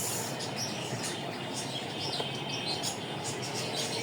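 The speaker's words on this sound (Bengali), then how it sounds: "পাখিদের কোলাহল" Steady outdoor wash of noise in a park with scattered bird chirps and calls throughout, faint and mixed into a constant rumble.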